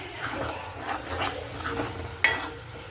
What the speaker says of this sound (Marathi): हे जिन्नस सगळे आपण एकत्र करून हा मसाला तेल सुटेपर्यंत परतून घेणार आहोत